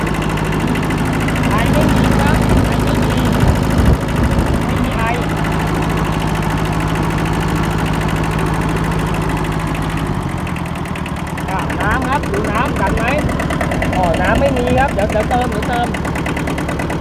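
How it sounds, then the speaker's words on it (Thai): Diesel engine of a Kubota B7000 tractor idling steadily just after starting, a continuous close chugging rumble with someone talking over it throughout. "โอ้ติดเลยครับนิ่มๆเลย แค่ไม่ต้องเผาหัวติดเครื่องได้เลย"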